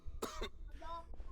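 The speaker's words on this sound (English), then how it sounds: "Why is he coughing so much?" A male character in Genshin Impact coughs in two harsh bursts, then a rougher throat-clearing hack follows, close and fairly loud over a quiet game background.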